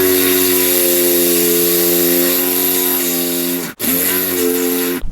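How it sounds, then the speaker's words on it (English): A DeWalt power drill drilling out screws, whining at a steady high pitch for several seconds, briefly stopping and restarting, then running on before a final quick cut-off; loud and close, with no talk. "So I'm gonna have to try and drill those out"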